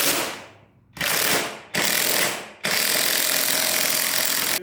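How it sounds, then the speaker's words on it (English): Loud, rough ratcheting bursts come from a ball joint press being tightened on the front suspension of a 1977 GMC truck, with four strokes, each fading or cutting off before the next, close up and with no talk. "we got the ball joint press set up. And we're just going to make sure that this is going down evenly"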